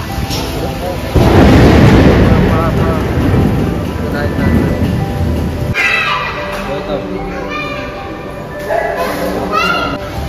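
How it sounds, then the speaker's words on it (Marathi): Steady, dense rain roaring outdoors at a crowded tourist spot in Maharashtra, loud and continuous, with voices and crowd chatter underneath and a faint whistle-like tone throughout. "बघा पाऊस बघा इकडे कसं चाललं, पडतोय तो मोठा"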